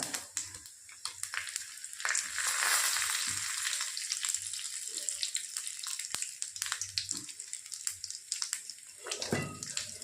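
Bay leaf and panch phoron spices sizzling in hot oil in a pan while cooking a Bengali dish, a crackling frying hiss with scattered sharp pops and a brief louder surge partway through.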